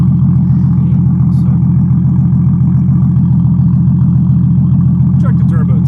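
A turbocharged car engine with a deep exhaust idles steadily at a low, even rumble, close and loud; the car has a smoking problem and oil found in the intake. Brief faint sounds appear near the end.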